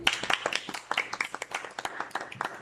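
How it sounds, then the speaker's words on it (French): Small studio audience clapping for several seconds after guests are introduced on a podcast, a light scattering of hand claps from just a few people, close and fairly quiet. "Applaudissements s'il vous plaît."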